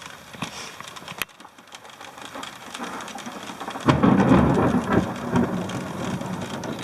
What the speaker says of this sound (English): Probably hear that thunder, I would imagine.